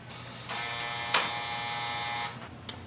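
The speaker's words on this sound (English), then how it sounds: "Once you plug in the power cable, the printer will automatically switch on." An HP OfficeJet Pro 9125e inkjet printer powering up on its own, a steady mechanical whir that starts about half a second in, with a brief sharper clunk partway through, then stops before a small final click.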